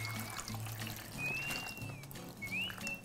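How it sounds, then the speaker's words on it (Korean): Salt water brine poured over cucumbers and peppers for water kimchi, a soft continuous pouring and trickling of liquid, quiet and close, with no talking. "이렇게 다 부어주세요."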